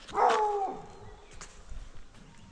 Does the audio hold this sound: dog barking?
yes